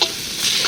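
Chopped water lily stems fry with salt in a pan, giving a steady loud sizzle close by with a faint stirring texture, with no talk.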